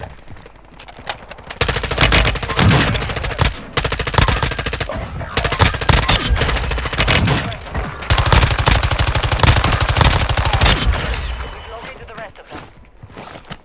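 An M4 rifle fires in Warzone 2, with loud, rapid automatic bursts repeating almost continuously and a few short gaps, and a player's voice talks over the gunfire.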